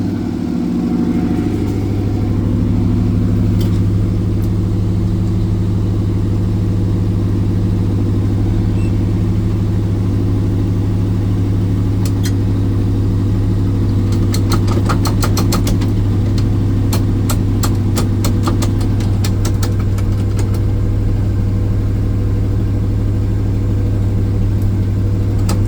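A 1977 Dodge car engine idling steadily in neutral as it warms up, a loud, constant low rumble close by, with faint ticking and rattles partway through.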